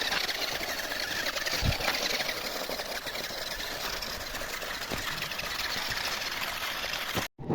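A tractor engine drones steadily while hauling a water pump motor and its pipes out of riverbed sand, a continuous mid-pitched hum with faint knocks, cutting out briefly near the end.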